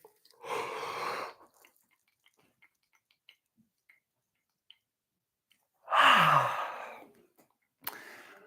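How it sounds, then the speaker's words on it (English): Two long, breathy exhalations, like big yawns or deep sighs, come close to the microphone several seconds apart, with near silence and a few faint clicks between them. "One more big yawn here."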